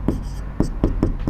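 A teacher writes on a board during a class-10 geometry lesson, making four quick scratchy strokes in an uneven rhythm, close by, with a voice partly audible between them.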